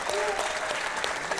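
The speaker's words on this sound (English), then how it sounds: "Come on, give him a big round of applause." A live boxing crowd applauds a fighter's ring introduction at a pro card, with continuous dense clapping and an announcer's voice over it.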